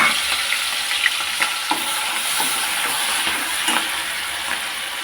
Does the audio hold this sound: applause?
no